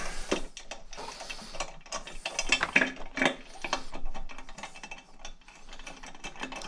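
Ratchet tightening the turbo inlet on a Honda Civic Type R FK8 during a Pure550 turbo upgrade: rapid, close metallic clicking in quick irregular bursts with small clanks of tools, no talking.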